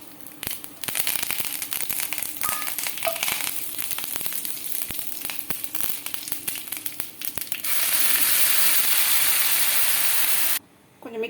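Ground capsicum chutney is cooked in a pan with urad dal and curry leaves, crackling and spitting in bursts before breaking into a loud, steady sizzling hiss that stops suddenly near the end.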